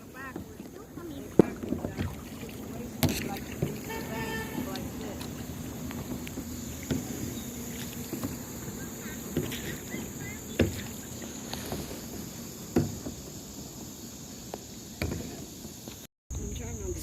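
A kayak paddles on a river. Soft water swishes and occasional paddle knocks sit under steady insect chirping and outdoor ambience, with faint voices now and then.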